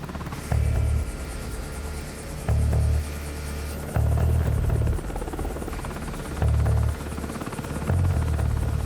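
Military assault helicopter engines cranking up for a combined SAS and Navy SEAL team: a steady close rumbling drone broken by heavy low thumping surges that repeat roughly every second or two, with no voices.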